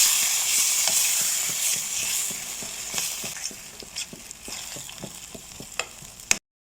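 Spoon stirring cream cheese into tuna pasta in a pan, giving a steady sizzle with repeated soft scraping and clicking strokes, close and alone, ending in a sharp knock.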